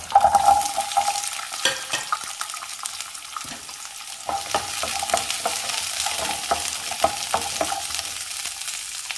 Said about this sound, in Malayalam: വെളിച്ചെണ്ണ ചൂടായി, അതിലേക്ക് ഒരു 10-20 ചുവന്നുള്ളി